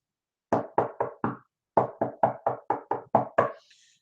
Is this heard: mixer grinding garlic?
no